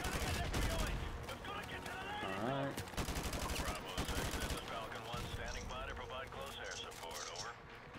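AK rifle gunfire in Call of Duty: Modern Warfare, sustained rapid automatic bursts crackling loud and close for the whole stretch, layered with other battle noise and a player talking over it.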